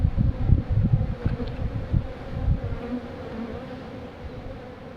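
Honeybees buzz in an open hive during an inspection, a close, dense hum that is loudest at first and then settles to a steadier, softer drone.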